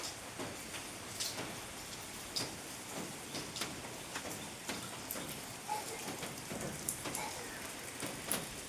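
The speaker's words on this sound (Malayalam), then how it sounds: "പിന്നെ മഴ പെയ്തുകൊണ്ടേ ഇരിക്കാം കേട്ടോ" Steady rain falls nearby, a soft continuous patter with scattered louder drops ticking on a hard surface, no voices.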